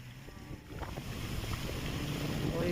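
A boat moving over deep water, with a steady rumbling engine and water rushing under wind noise buffeting the microphone, loud and continuous with no talk.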